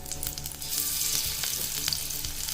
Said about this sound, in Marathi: एका नॉनस्टिक फ्राईंग पॅनवर मी थोडंसं तेल टाकून हे पनीरचे क्यूब्स व्यवस्थित दोन्ही साइडनी फ्राय करून घेणार आहे